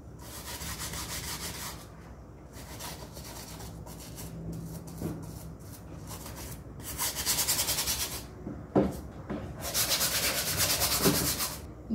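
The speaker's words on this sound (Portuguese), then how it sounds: "começo a esfregar com a escovinha" A small brush scrubs a shoe inside and out in steady, close rasping strokes, at times softer and at times harder and faster, with brief pauses between bursts and no voices.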